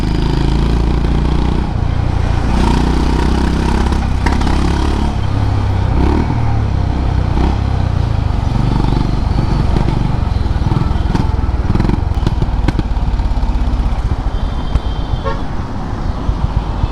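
A Honda CB 350 RS motorcycle rides along a road with a steady loud engine drone and wind rush, with road traffic and a brief horn toot around it.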